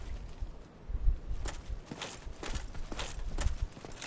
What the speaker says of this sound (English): I hear footsteps, like, to my left.